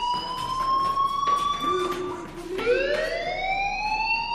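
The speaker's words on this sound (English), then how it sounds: "do you hear that fire alarm? That means you should be outside." A fire alarm wails in the Life Is Strange video game, a loud rising and falling electronic siren tone sweeping continuously and close.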